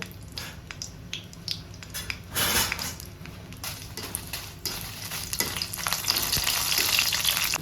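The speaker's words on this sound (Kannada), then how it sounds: "ಮೊದಲು ಈ ಬೆಡಗಿ ಮೆಣಸನ್ನು ಹುರಿಬೇಕು." Byadgi chillies dry-roasting and stirred in a hot pan, giving a steady crackling sizzle with scraping stir strokes that builds toward the end, heard alone without voices.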